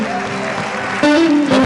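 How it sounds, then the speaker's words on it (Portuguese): Loud applause fills a church service, a dense steady clatter of many hands, with a voice rising over it partway through. "Dá uma salva de palmas bem forte"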